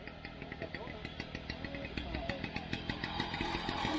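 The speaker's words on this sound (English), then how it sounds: "somebody just test driving one of their mopeds is selling" A moped engine buzzes steadily at an outdoor autojumble while being test ridden, its rapid putter rising gradually in level over several seconds.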